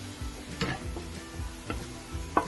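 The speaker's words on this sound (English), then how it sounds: "Right, the onions are almost done. I'm just going to let them brown up a bit more." Onions fry and brown in a pan, a low steady sizzle broken by a few clattering stirs and taps of a utensil against the pan.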